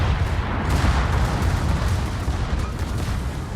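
Bot warships in World of Warships firing on the player's ship, a dense continuous roar of gunfire and explosions, loud and close with no distinct separate shots.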